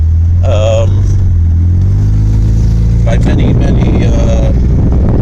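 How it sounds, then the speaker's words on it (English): A car with a very loud muffler drives uphill, its low engine drone steady and prominent beneath someone talking throughout. "Muffler is very loud, so I don't know if you're going to hear me over the muffler when I'm going up hills."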